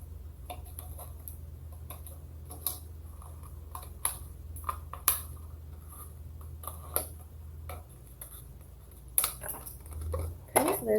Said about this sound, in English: I'm going to stick my scissors in it, and I'm going to cut out the circle we just made.